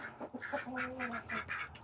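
Ducks kept alongside chickens quack nearby in a quick run of several nasal calls, moderately faint, with no talk.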